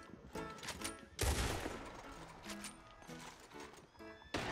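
Gunshots in Red Dead Online at the Blackwater Saloon, a few sharp close shots with one heavy blast, over busy game ambience and faint background sounds.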